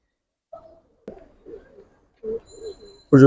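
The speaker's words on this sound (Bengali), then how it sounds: "এটা একটা নর কবুতর" A male Giribaz pigeon coos close by in a few soft, low, throaty bursts with short pauses, ending in a louder rustle or flutter.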